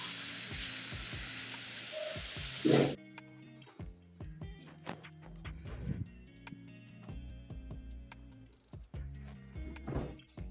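Rain falls while the sun shines, a dense steady hiss lasting a few seconds before cutting off abruptly, followed by scattered nearby clinks and handling noises.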